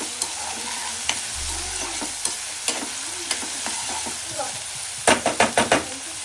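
Onions and green chilies frying in hot oil, a constant sizzle punctuated by regular knocks of a spoon against the pan and a quick burst of scraping strokes near the end, close and fairly loud.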